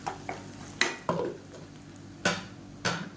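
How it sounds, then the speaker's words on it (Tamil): Spice powder and ground paste for a vegetarian fish-style kulambu are sautéed in a pan over a medium flame, heard as a handful of sharp, close scrapes and clinks of a spoon against the pan at irregular intervals, with no talk. "மீடியமான ஃப்ளேமில் பொடியை சேர்த்து வதக்கிட்டு அந்த அரைச்ச பேஸ்ட்டையும் சேர்த்து வதக்கி விட்டுக்கணும்"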